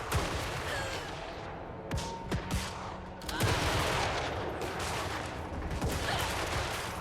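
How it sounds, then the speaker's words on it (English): Continuous rumbling battle noise from Total War: Warhammer 3 with booming crane gunner cannon shots and sharp blasts scattered throughout, dense and loud with no clear pauses. "just watching the crane gunners fire a little bit"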